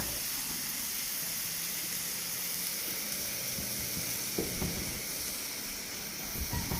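Meat sizzles on a hot grill with a constant hiss, a few faint clatters and pops breaking in toward the end.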